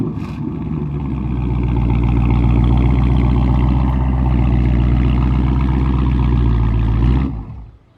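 A Dodge Charger Scat Pack, raised on a lift, starts up and settles into a loud, deep, steady exhaust rumble up close for about seven seconds, then cuts off.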